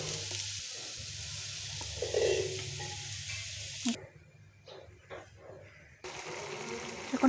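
Maggi noodles frying and being stirred in a pan give off a steady close sizzle. The sizzle drops away for a couple of seconds and then returns, with a few soft stirring knocks.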